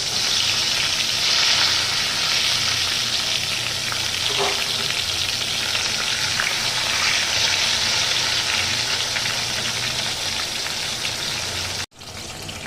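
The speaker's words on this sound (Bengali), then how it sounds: "এখানে আমি ঝিঙাটাকে একটু তেলের মধ্যে এপিট ওপিট করে নাড়াচাড়া করে নেব" Ridge gourd pieces frying in hot oil while being turned and stirred, a loud continuous crackling sizzle like heavy rain that runs unbroken, with no talking, until a sudden brief drop near the end.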